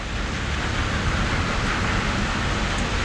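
Heavy August rain pours steadily onto a city street under a café umbrella, a dense, continuous hiss of falling water without pause.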